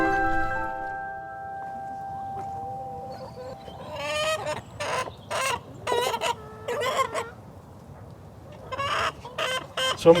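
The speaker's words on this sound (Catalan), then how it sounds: "una granja de pollastres d'Artesa de Lleida on treballa el Rubén Darío." Chickens clucking and squawking at a chicken farm in Artesa de Lleida, a dense flock heard close with repeated bursts of calls over a steady low barn hum.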